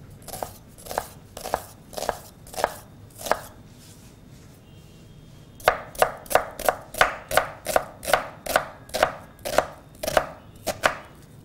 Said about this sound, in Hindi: बारीक बारीक आपने ऑमलेट की तरह प्याज को कट कर लेना है